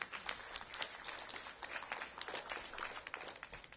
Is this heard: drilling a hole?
no